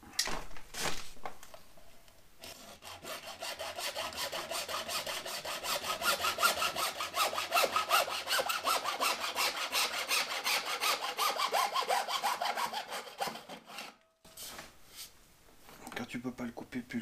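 A 100 mm PVC drain pipe being sawn by hand, with steady back-and-forth rasping strokes that run close and loud for most of the span before stopping, briefly resuming at the end, with some talk at the start.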